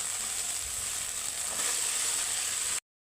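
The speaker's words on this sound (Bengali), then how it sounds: "এখন আমি ভেজে রাখা এঁচড়টা দিয়ে দেবো।" Fried jackfruit goes into a pan of spiced masala already cooked down until the oil separates, giving a steady, loud, continuous sizzle at close range for nearly three seconds before it cuts off abruptly.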